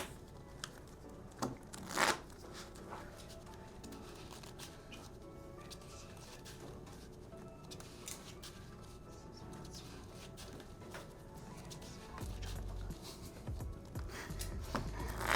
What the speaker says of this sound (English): All right, so shuffle.